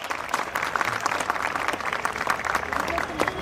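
Audience applause at a school annual day event, steady broadband clapping from a crowd sustained throughout, with faint voices mixed in.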